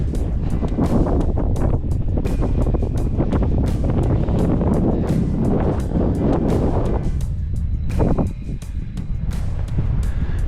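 Strong wind buffets the microphone on a Scottish mountain ridge near Beinn Ghlas in the Ben Lawers range. The roar is loud and continuous, with gusty rumbling throughout and a brief lull near the end.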